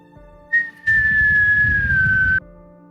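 A single high, descending whistle of something incoming, held steadily for about two seconds over a low rumble, then cutting off abruptly.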